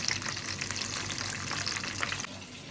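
Chicken frying in hot oil, a dense, steady sizzle and crackle at close range that continues without a break.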